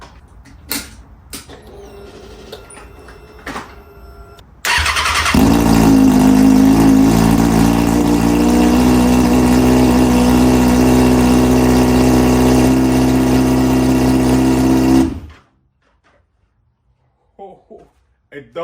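A salvaged, crash-damaged Kawasaki Ninja ZX-6R with only a bare header fitted cranks and fires up, then idles very loudly and raw for about ten seconds before cutting off into near silence, with faint sounds before and after.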